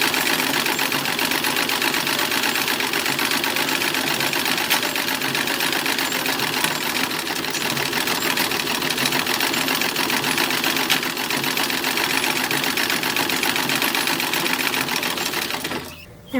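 A sewing machine runs steadily while stitching a French seam on a 1920s-style summer party dress, a continuous close mechanical whir with fine rapid stitching texture that holds for about sixteen seconds before stopping abruptly.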